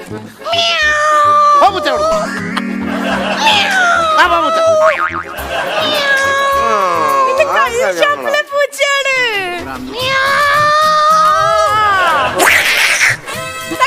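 During a guessing game on a TV comedy show, a person imitates a cat with long, loud, wavering meows and squeals, mixed with excited voices and occasional sound effects.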